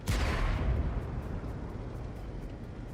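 A single heavy tank cannon shot in World of Tanks Blitz booms loud and close, then a long rumbling decay fades over the next few seconds.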